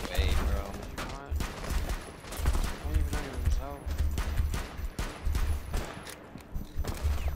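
Gunfire in a video game comes as rapid, repeated bursts of shots with heavy low thumps throughout, while players talk excitedly over the shooting.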